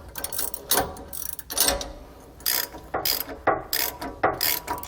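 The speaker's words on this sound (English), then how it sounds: "We want to make sure to tighten down our U-bolts evenly, and we don't want to over tighten them either and put a dent in our tie rod." A ratchet wrench clicks in rapid bursts as U-bolt nuts are tightened on a steering stabilizer bracket against a tie rod, close and loud, repeated pulls separated by brief pauses.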